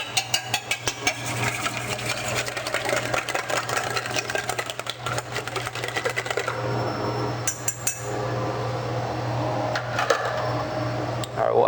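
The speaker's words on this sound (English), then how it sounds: "we'll whisk that up and then add that to our chocolate." Egg yolk is whisked in a bowl for a molten spice cake in a kitchen, a fast run of light rhythmic clicks and scrapes that slows and fades after several seconds, close by.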